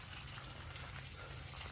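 Steady rushing water from a water pump flows continuously, a full, even gush like a stream pouring from a pipe, with no breaks or voices.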